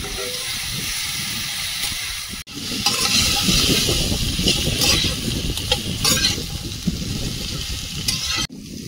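Slit green chillies, black cumin and turmeric powder sizzle and hiss loudly in hot oil, with a steady frying roar that jumps louder partway through, alongside occasional stirring clatter.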